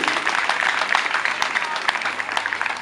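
Lively applause from a crowd at a wedding blessing, dense and close, with individual claps popping out of the steady patter.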